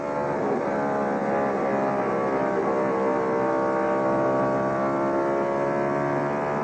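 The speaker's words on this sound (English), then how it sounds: "You hear him oscillating that throttle" An IndyCar driver works the throttle on corner exit at Loudon, New Hampshire in 1997, heard from inside the car as a steady, loud engine drone with dense harmonic whine that wavers slightly as the revs are held back.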